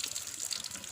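Natural spring water flowing steadily in a short, faint, continuous gush with no voices.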